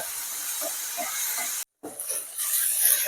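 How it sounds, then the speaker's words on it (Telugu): Ginger garlic paste fries in a pan for garlic chicken, giving a steady close hiss and sizzle that breaks off for a moment and then returns louder. "జింజర్ గార్లిక్ పేస్ట్ వేసిన తర్వాత ఈ పచ్చి వాసన పోయేదాకా మనం దీన్ని ఫ్రై చేయాలన్నమాట."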